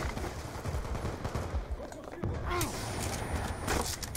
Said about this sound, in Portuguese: Caraca, tiro de tudo quanto é canto aqui, mano.